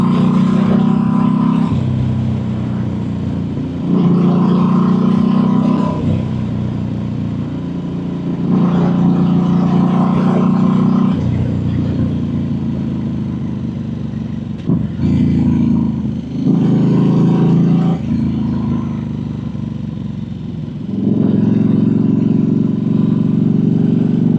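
Steady road traffic with cars and motorbikes passing on a busy road, engines droning and swelling in repeated waves as vehicles go by close.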